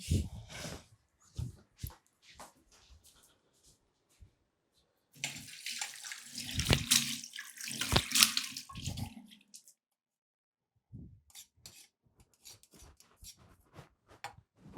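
Water runs from a tap as someone washes face and hands in a home, a splashing gush lasting several seconds amid scattered knocks and rustles, with quieter handling noises before and after.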